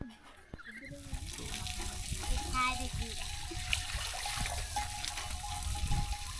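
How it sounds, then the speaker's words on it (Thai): Water scooped and poured from a basin, a soft continuous trickle and splash close by, with people talking faintly in the background. "บอนนางน้อยเพิ่นมาตักน้ำพี่น้องอ่างน้ำเนาะ"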